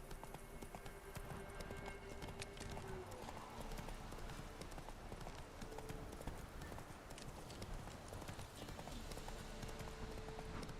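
Horse hooves galloping in the Witcher 3 video game, a steady rapid clip-clop rhythm running throughout under a thick wash of game ambience and music, fairly loud and continuous.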